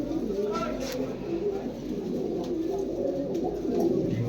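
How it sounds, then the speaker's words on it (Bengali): Silver Gorra pigeons of an old bloodline coo softly beneath a steady background hum, with low, rolling calls recurring through the stretch alongside faint voices. "সিলভার কবুতর, সিলভার গররা, একদম পুরান ব্লাড লাইনের কবুতর।"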